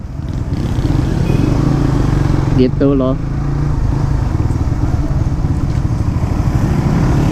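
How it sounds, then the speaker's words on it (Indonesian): A Suzuki GSX 150 Bandit motorcycle engine runs close by at a steady, rough idle throughout, and someone speaks briefly partway through. "Dia cukup kita tekan aja sekali, dia bakal nge-starter tuh sampai mesinnya nyala."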